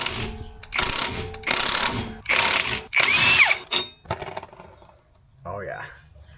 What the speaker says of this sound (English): So this is a 19, and we're just gonna impact her into place.